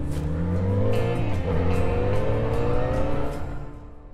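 Motorcycle accelerating hard during an obstacle-avoidance braking exercise at a riding school, a loud close engine whose rising harmonic pitch climbs steadily through the revs and then eases off at the end.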